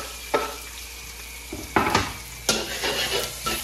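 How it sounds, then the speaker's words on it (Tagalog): Onion and garlic sauté in a pan for kinamatisang baboy, a soft sizzle under a few bursts of spatula scraping and stirring, close by with no voices. "Siyempre una, magigisa tayo ng sibuyas. Sunod na natin yung bawang."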